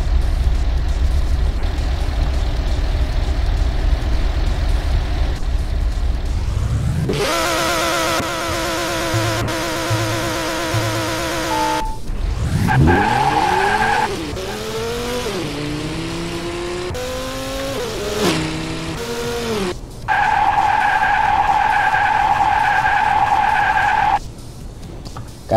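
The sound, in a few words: drag car driving without nitrous, tires skidding, Drag Battle video game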